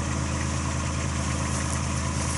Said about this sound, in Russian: Машина, как слышите, ровно работает.